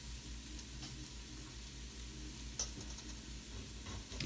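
Garlic sizzles softly in a pot, a faint and steady crackle with a couple of small clinks near the end.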